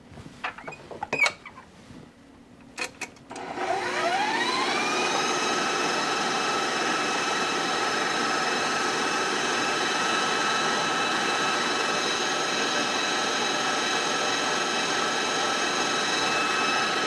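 After a few clicks and knocks, an electric mixer whirs up to speed around 3.5 seconds and then runs at a steady high whine, its beaters working strawberry mousseline buttercream in a bowl.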